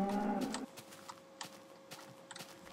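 Cows mooing in Minecraft, a low drawn-out moo up close at the start, then quieter game sounds with light clicking and tapping while the herd stays near.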